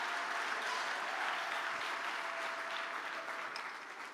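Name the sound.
congregation applauding and acclaiming the Lord in church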